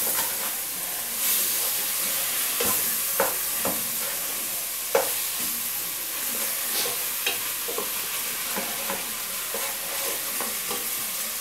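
Meat stirs and fries in a pan for chili con carne, a continuous sizzle and hiss under repeated scraping strokes and occasional sharp clinks of the utensil, close and fairly loud.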